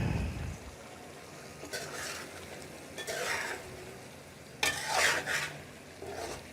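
An eggplant and taro curry cooks in a pot, with a soft steady sizzle under several bursts of spoon stirring and scraping that come and go, close and clear, with no speech.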